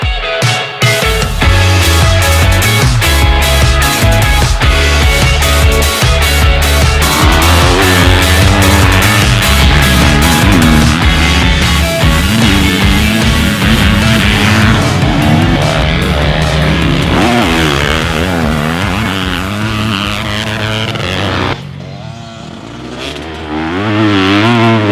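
A Pro Circuit Yamaha YZ250F motocross bike is ridden hard, its engine loud and close with continuous revving, shifting pitch as it accelerates and backs off, then a brief throttle chop near the end.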